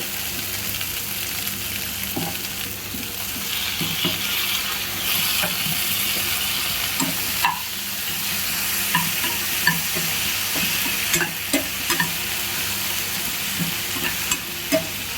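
Okra and chopped tomatoes fry in a pan with a steady sizzle, while a spoon stirs through them in repeated scraping strokes, close and moderately loud, with no voices.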